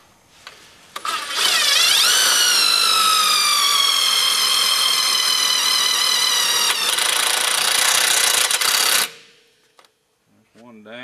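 A power drill drives self-tapping screws while mounting a fan switch relay box, giving a loud, steady whine that climbs in pitch and runs for several seconds before cutting off.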